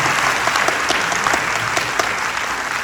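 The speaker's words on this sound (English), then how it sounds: "Let's give the FCFC a round of applause." A crowd at a San Diego FC event claps warmly, a dense and steady burst of applause from many people that fills the short moment without pause.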